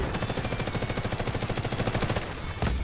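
Rapid automatic M4A1 rifle fire in the shooter game Delta Force, a loud, steady stream of close shots that breaks off near the end.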